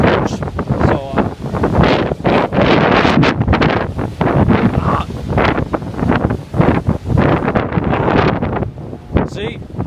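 Strong wind buffets the microphone on a beach as waves roll in, a loud roaring rumble with gusty surges, while a person talks over it.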